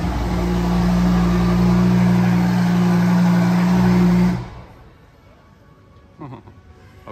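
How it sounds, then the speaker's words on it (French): A Lamborghini Huracan fitted with a Novitec exhaust fires up nearby, a loud, steady droning engine roar that holds for several seconds before cutting off abruptly, leaving near-quiet with a brief faint clatter. "C'est un Huracan ça qui a démarré, ça m'a fait un peu flipper. Huracan Novitec qui a démarré là-bas."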